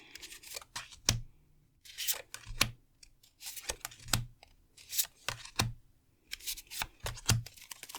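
Tarot cards being shuffled by hand, close and crisp, in repeated riffling bursts of rapid flicks separated by brief pauses, with sharp card snaps as the deck is squared.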